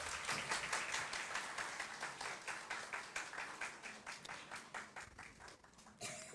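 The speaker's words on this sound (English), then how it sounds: "let's have a round of applause for Mr." Audience applause for Rohit Bose at a live campus session, a steady wash of clapping from a crowd that holds for several seconds before tapering off near the end.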